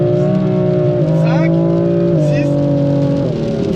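A Ferrari engine revs hard on a race circuit, loud and close, and its pitch drops briefly at each of three upshifts through third, fourth and fifth gear. A voice talks over it.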